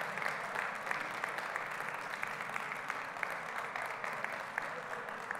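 An audience at the Mr Gay World South Africa 2021 show applauds the event sponsors, with steady, many-handed clapping that is fairly quiet and distant and carries a few sharper individual claps.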